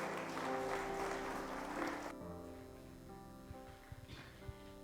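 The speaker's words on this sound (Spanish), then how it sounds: "Dale un aplauso fuerte a Jesús." Church congregation applauding, a broad wash of clapping that cuts off abruptly partway through, leaving quieter room noise and a few scattered knocks.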